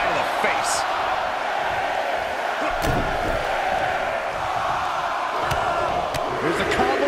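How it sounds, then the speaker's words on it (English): Arena crowd in the wrestling video game WWE 2K22 roaring continuously, a loud sustained cheer with occasional impact thuds and a commentator-style voice talking over it. "Just listen to the crowd."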